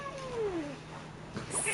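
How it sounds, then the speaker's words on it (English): A house cat gives one drawn-out meow with a falling pitch, close and fairly clear over a low background hum from a heating fan. A few faint rustles follow. "here is my cat that probably you can't see, but it exists"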